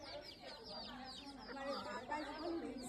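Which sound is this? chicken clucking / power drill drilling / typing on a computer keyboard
chicken clucking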